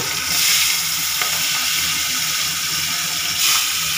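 Food sizzles and spatters in a frying pan close by, a steady dense hiss with brief louder flares of sizzle, with no voices over it.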